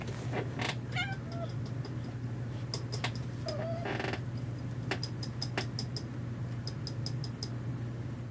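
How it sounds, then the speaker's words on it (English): Several house cats meowing indoors, with a couple of short, close meows and chirps over a steady low hum and scattered ticking and creaking. "I got multiple cats over here, guys."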